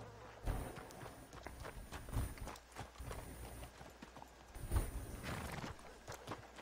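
Horse hooves clip-clop steadily in Red Dead Redemption 2 Online, a close, continuous walking rhythm with occasional sharper hoof strikes and faint background ambience.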